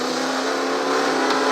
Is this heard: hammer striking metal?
no